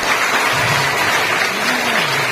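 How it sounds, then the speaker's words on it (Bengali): An audience at a zero-waste rally claps together in a loud, dense, sustained burst of applause that fills the whole moment. "সবাই একটু হাততালি দিয়ে।"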